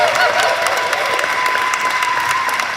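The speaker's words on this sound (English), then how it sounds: "could we just get another round of applause for all the candidates who've been on stage today?" A room full of people at a district candidates forum claps steadily and loudly for the candidates, with scattered cheers mixed into the continuous applause.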